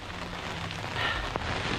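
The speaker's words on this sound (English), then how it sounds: "The rain has started." Rain beginning to fall along a hiking trail, a soft, steady hiss of drops on leaves and ground with no voices, even and fairly quiet throughout.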